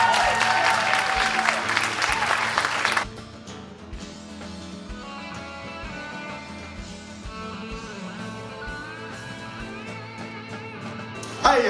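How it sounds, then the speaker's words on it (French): Audience applause at a community recognition evening in Pessamit, a loud burst of clapping for about three seconds that drops to a quieter sustained patter, with faint murmuring under it. "Myriam, j'aimerais qu'on l'applaudisse parce que c'est la seule fille qui a suivi c"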